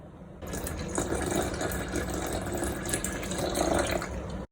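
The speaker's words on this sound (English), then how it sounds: "Now we'll add the rest of the milk." Milk pours steadily into a blender jar for a date milkshake, a continuous liquid splash and gurgle close by that starts abruptly and cuts off at the end, with no talking.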